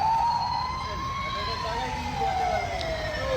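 A toy fire truck sounds its electronic siren, a rising and falling wail that sweeps smoothly and continuously, fairly loud and close.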